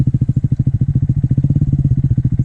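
Honda Grom motorcycle engine revving in neutral, a close, loud, rapid popping idle-to-rev pulse with steady rhythmic firing throughout.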